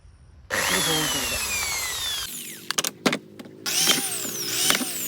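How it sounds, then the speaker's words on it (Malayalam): A power drill fitted with a 4 mm bit bores pilot holes into an Oxy multiwood kitchen board. It whirs loudly at a steady pitch, stops briefly with a few knocks, then spins up again to a rising whine close by. "ഫോർ എം എം ബിറ്റാണ് നമ്മൾ ഉപയോഗിച്ചത് ഓരോ ഹോള് ഇട്ട് കൊടുക്കാം"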